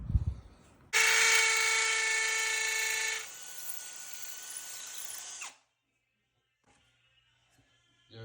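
A power drill fitted with a masonry bit bores holes for toilet flange screws. It whines loudly for a couple of seconds, drops to a lower, steadier drilling tone, then winds down to near silence.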